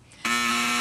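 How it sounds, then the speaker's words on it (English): A quiz show buzzer on a school quiz program sounds a sudden loud, steady electronic tone that starts abruptly and holds to the end. "that buzzer means one more toss-up round to go"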